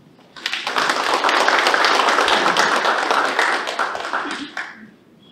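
Audience giving a big round of applause to welcome a guest speaker at a CEO training lecture, dense clapping swelling quickly, holding for several seconds, then tapering off.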